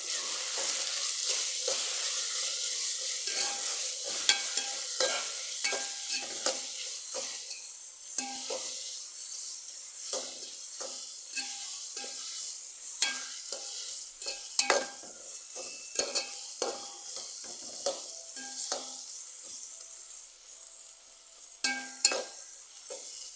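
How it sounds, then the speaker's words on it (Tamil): Chili powder stirred into a frying curry in a pan, a soft continuous sizzle with frequent scraping clicks of the spoon against the pan, close up and with no talk. "மிளகாத்தூள் போகிற போகிறே போட்டாச்சு அதை கொஞ்சம் கிண்டி விடலாம்"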